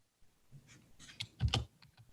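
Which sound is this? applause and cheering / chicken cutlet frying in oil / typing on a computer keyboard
typing on a computer keyboard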